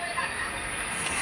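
Train noise at Donakonda railway station, a steady broadband rumble and hiss of rolling rail cars with faint wheel squeal, loud and continuous throughout with no talking.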